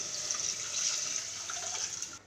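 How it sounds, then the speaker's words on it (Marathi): Mutton stock water is poured into a pot, giving a continuous rushing, splashing flow that stays steady for about two seconds and then stops abruptly; no voices. "मटणाचं पाणी घालून घेऊ आपलं"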